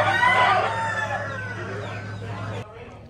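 A Buff Orpington rooster crows once, loud and close, at a small animal auction, the long call trailing off before a short pause.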